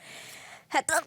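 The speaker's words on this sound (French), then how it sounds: "c'était un éternuement en direct," A single sharp sneeze bursts out in two quick parts after a quiet, hissy lead-in, close and fairly loud.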